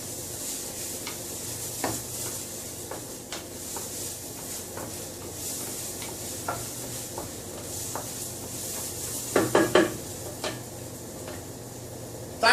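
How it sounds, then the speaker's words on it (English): Onions soften in a pan for a creamy morel sauce, giving a low steady sizzle broken by scattered scrapes and taps of a utensil stirring, with a brief louder clatter of stirring near the end. "You want to make sure you cook the onion till they're tender."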